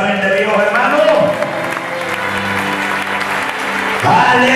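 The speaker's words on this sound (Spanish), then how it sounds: "Dale un fuerte aplauso a la mente, Dios, hermano." Congregation applause during a Spanish-language Sunday church sermon, a dense sustained clapping from a crowd with voices and shouts mixed in, swelling again near the end.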